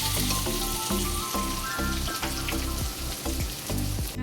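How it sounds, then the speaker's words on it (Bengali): Onion and green chilli fry in a pan with a continuous loud sizzle, crackling with irregular pops and spits the whole time. "এই যে পেঁয়াজ কাঁচা লঙ্কা ভাজছি"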